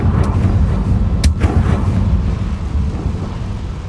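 Explosion spell blast in the video game Hogwarts Legacy, a sharp close burst followed by a second crack and a deep rumbling boom that fades over a few seconds.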